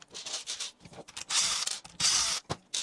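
Screws being undone on the chassis of a Vanquish H10 Optic RC crawler, with quick ratcheting clicks and scraping bursts in an irregular rhythm. The sound is close and moderately loud.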